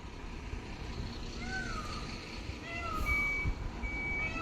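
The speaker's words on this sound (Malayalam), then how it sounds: "നമ്മുടെ ടിപ്പർ ഇതാ ലോഡ് കയറ്റി ഇവിടെ എത്തിയിട്ടുണ്ട്" A loaded tipper truck arrives and reverses, its repeating reversing beeps sounding over a low engine rumble, with a faint bird-like call in the background and rain-laden outdoor ambience.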